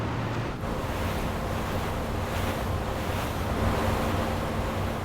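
Wind and waves at sea aboard a ship on the day of a planned warship sinking: a steady roar of surf and gusting wind buffeting the microphone, loud and continuous, with no voices.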